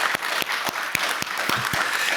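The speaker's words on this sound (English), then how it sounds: "you should give yourself a round of applause." A graduation audience clapping, a steady patter of hands at moderate distance, with a few sharp individual claps standing out in a regular rhythm.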